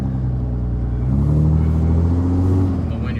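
A Dodge Ram pickup with a Cummins diesel engine and a 48RE automatic transmission that won't shift into second gear, rumbling low and loud as it drives and swelling slightly under load, heard from inside without talk.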